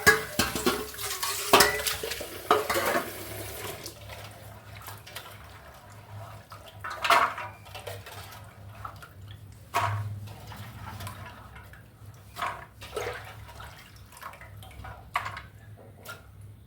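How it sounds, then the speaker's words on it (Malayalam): Spinach leaves and vegetables being washed in water, with splashes, trickling and occasional clinks of a vessel, soft and intermittent with louder bursts. "നമുക്കിത് നന്നായി കഴുകിയെടുക്കാം."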